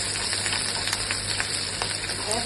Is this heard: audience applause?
no